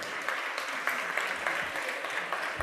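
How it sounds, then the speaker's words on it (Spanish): Applause from a gathered audience at a church meeting on pruning, a steady dense patter of many hands clapping throughout, fairly close and even in level. "un aplauso para ellos que les van a llevar con mucho fruto"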